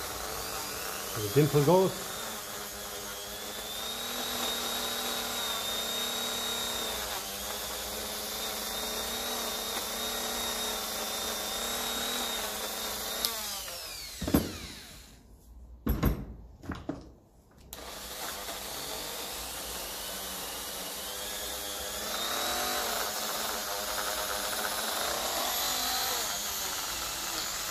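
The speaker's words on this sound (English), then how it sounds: "Clean him out with the Dremel." A Dremel rotary tool grinds and cleans a Lucas starter motor for a Ferguson 20 tractor, a steady high whine running long and dropping out briefly midway with clatter and brief speech, then resuming.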